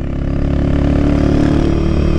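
A modified Honda Twister motorcycle revs on the street, its engine note building slightly as the throttle opens. The close, loud, throbbing exhaust has a faint mechanical clatter and plays without any voices.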